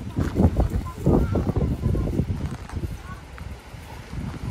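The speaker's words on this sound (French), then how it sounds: "je suis désolée, il y a du vent" Gusting wind buffeting a microphone outdoors at a camping spot, loud low rumbling pulses that rise and fall irregularly throughout, with faint background sounds underneath.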